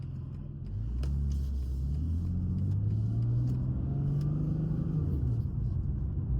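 2025 BMW M2 G87 LCI driving, its engine rumbling up from idle and rising smoothly in pitch through acceleration, heard from inside the car at a moderate steady level with no talk.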